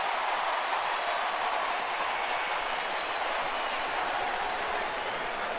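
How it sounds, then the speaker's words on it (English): A baseball crowd at a Colorado at Atlanta game reacts to umpires calling a runner out, a dense, sustained roar of cheering and clapping that stays loud and even throughout. "The crowd reacted as if the umpires were calling him out"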